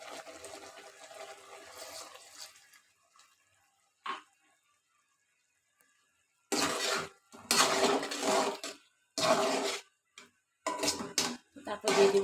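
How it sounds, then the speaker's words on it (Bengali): A small amount of water is poured into a pangas fish curry with ridge gourd cooking in a pan. Faint clatter is followed by loud splashing pours in several separate bursts, with short quiet gaps between them. "এখন এখানে দিয়ে দেবো হালকা একটু পরিমাণ পানি"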